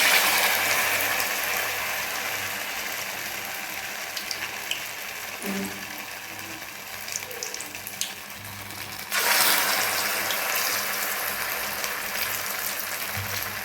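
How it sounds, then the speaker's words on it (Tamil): Bonda batter dropped spoonful by spoonful into hot oil, giving a steady, close hiss of frying with small crackles throughout and a brief louder surge of sizzle partway through; no one speaks. "இப்போ ஒவ்வொரு போண்டாவாக போட்டுடலாம்"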